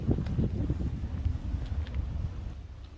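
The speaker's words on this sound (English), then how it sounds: "It's a bit windy here" Gusty wind buffets the microphone in low, uneven rumbles over a few seconds, with no talking.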